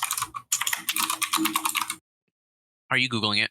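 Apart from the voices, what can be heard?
typing on computer keyboard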